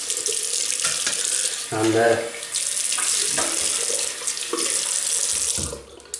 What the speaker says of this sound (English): Right, we'll rinse off,